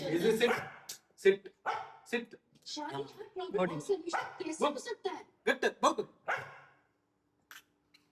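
A dog at a family home barks on command, giving a few short sharp barks mixed in with near, steady human talk that fills most of the stretch.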